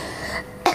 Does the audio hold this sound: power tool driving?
no